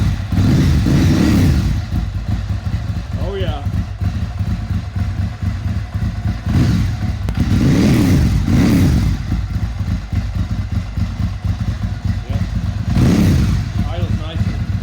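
Ducati 851 Strada custom motorcycle engine started and running, a loud close continuous rumble that swells in a few revving surges, with a brief spoken exclamation over it.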